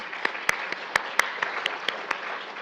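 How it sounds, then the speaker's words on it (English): Audience applause at a community health talk on seizures, a thin scattering of claps with several sharp individual hand claps standing out, fairly close and without voices. "Let's give them a more round of applause as well."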